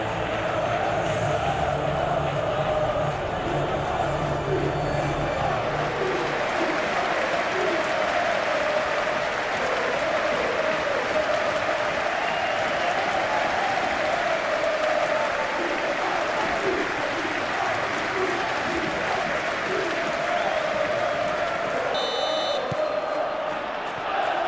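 Stadium crowd in the football video game PES 2021 before a Benfica versus Real Madrid Champions League match, a continuous roar of applause and cheering with a low rumble early on, steady and loud throughout.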